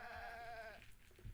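Goats in the video game The Legend of Zelda: Tears of the Kingdom give a single short, wavering bleat, fairly faint, followed by a moment of quiet game ambience.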